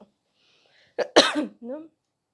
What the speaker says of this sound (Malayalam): ചുമയൊക്കെ ഇങ്ങനെ വന്ന് വന്ന് ഇങ്ങനെ മുട്ടി മുട്ടി നിൽക്കുന്നുണ്ട്